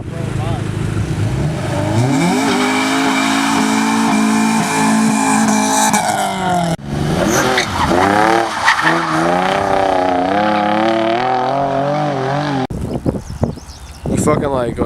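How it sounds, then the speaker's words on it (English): A car drifts and slides along a street, its engine droning steadily while the tires squeal and skid, loud and close, with a break and shifts in pitch partway through. People talk over the engine noise. "we were drifting and rolling by."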